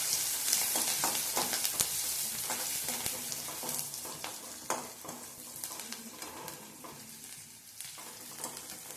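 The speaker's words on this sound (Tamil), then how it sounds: "இப்போ கழுவி வச்ச கருவேப்பிலை தலையும் சேர்த்து வதக்கி விட்டுடலாம்." Curry leaves sauté in a hot pan with a bright crackling sizzle and intermittent scraping and tapping of a stirring spoon, near and steady, no one speaking.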